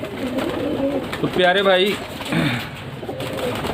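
Pet pigeons coo in a short burst close by, mixed with someone talking over a continuous background murmur.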